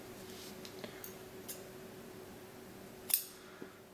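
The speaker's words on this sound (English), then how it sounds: "Now I'll chain 1 and I'll cut this yarn." Scissors snip through cotton crochet yarn in a single sharp cut near the end, alongside a few faint small clicks in a quiet room.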